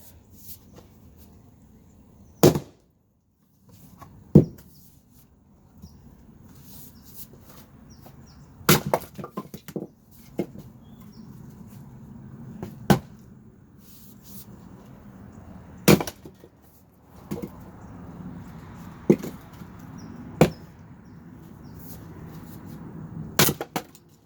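A Fiskars X27 axe splitting firewood logs outdoors, with sharp, loud cracks of the blade striking and bursting wood apart, spaced irregularly over a quiet background with faint low rumble between blows.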